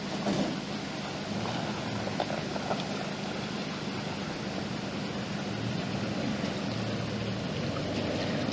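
A four-wheel-drive vehicle churns through a muddy puddle on the Balfour Track in Tasmania, giving a steady, wet squelching and sloshing rumble that holds at an even level throughout, with no talk.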